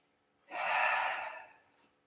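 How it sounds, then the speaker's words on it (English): One long, airy exhalation close to the microphone during a yoga stretch, swelling quickly and fading over about a second, with a faint breath after. "Hold it and breathe."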